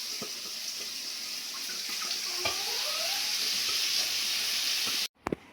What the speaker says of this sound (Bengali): এবারে হচ্ছে কড়াতে ভালোভাবে কষে নিই